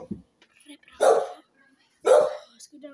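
A small dog gives two sharp, yappy barks about a second apart, close by, with faint voices murmuring in between.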